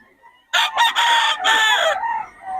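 A rooster in Bocaue crows once, close and loud, as one drawn-out cock-a-doodle-doo call that fades into quiet at the end.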